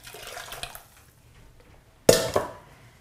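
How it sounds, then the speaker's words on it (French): Strained chicken broth is poured back into a saucepan for homemade chicken vermicelli soup. A short quiet stretch is followed by one abrupt, close splash and gush of liquid that quickly fades away. "Puis on reverse le tout dans la casserole"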